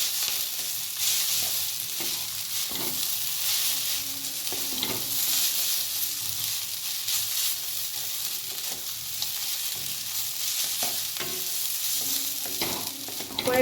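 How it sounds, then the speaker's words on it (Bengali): Vegetable noodles are stirred in a frying pan over a constant soft sizzle, with repeated scraping and clinking strokes of the utensil against the pan throughout. No one speaks. "এবার একটু ভালো করে মিশিয়ে দেবো।"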